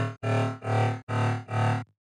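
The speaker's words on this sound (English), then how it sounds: "We're adding all this metallic-y tones" A buzzy, harmonically rich dubstep synth plays four sustained notes with a metallic, distorted edge, loud and alone, ending abruptly.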